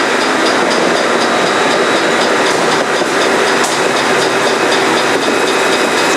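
A bandsaw slowly feeds through needled E-glass fiber mat in a steady, loud, unbroken grinding hiss with a faint motor hum, no voices heard.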